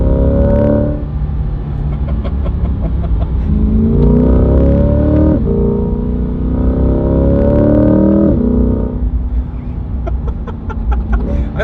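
Chevrolet Corvette C8 engine revving hard while driving, rising pitch sweeps broken by quick shifts about every two seconds, loud and close with a brief voice in between.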